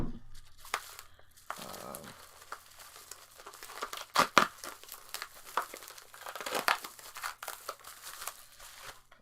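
A reinforced padded shipping envelope holding comics being handled and opened, bursts of crinkling and rustling plastic with a couple of sharper tearing rips in the middle, fairly close with no talk.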